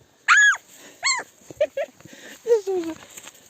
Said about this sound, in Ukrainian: Вони ще гавкають чи що.